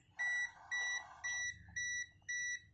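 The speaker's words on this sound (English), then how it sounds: "it will give you a beep sound" A multimeter continuity tester emits five evenly spaced electronic beeps, each about a third of a second long, clear and close against a quiet background.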